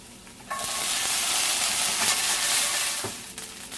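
Green beans dropped into a hot pan with olive oil and minced garlic, setting off a sudden loud, steady sizzle that fills the space up close and holds for a few seconds, with a faint utensil knock near the end.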